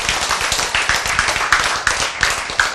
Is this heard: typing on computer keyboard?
no